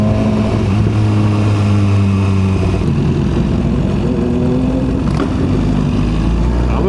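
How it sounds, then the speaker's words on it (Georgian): Many motorcycles riding close behind on a road at a season-opening ride, a loud continuous engine drone with layered tones shifting in pitch as they roll along together. "ამასობაში ბევრი მოტოციკლეტი წამოგვეწია."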